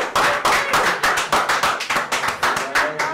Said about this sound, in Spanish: no vi que ya aplaudieron